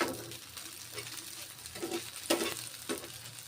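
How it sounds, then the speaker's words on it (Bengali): Chhana bora, cottage cheese fritters, fry quietly in mustard oil with a soft steady sizzle, broken by several scraping strokes as they are turned in the pan. "ছানার বড়াগুলো এইভাবে ভেজে নিচ্ছি।"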